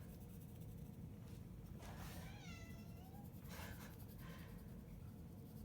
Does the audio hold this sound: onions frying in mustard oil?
no